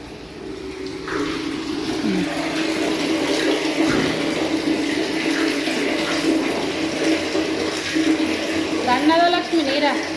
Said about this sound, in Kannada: ಕುಡಿಯೋ ನೀರು ಬಂದವ್ರಿ ಇವತ್ತು ಆವಾಜ್ ಬರತ್ತೈತಿ ನೀವು ಕೇಳ್ತಿರ್ಬೋದು